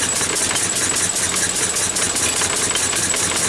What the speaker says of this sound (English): So here we have the Lister D universal grinder.